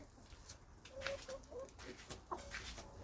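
Backyard farm chickens cluck in short, scattered calls while they eat, fairly faint against a steady outdoor background.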